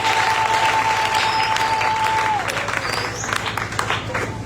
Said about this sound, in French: Et nous disons merci à Dieu en acclamant très fort.